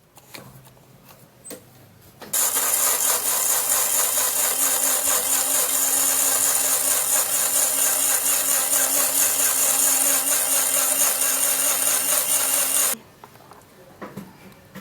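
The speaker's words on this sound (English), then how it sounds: "I'm going to be blending it with this small tiny blender." A small, tiny electric blender whirs at high pitch blending tomato, switching on abruptly after a quiet start, running steadily and loudly for about ten seconds, then cutting off.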